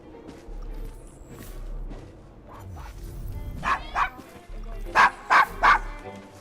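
A dog barks in the video game Assassin's Creed Syndicate, set in Victorian London: several sharp, loud barks close by in a quick run near the end, over street noise and low voices.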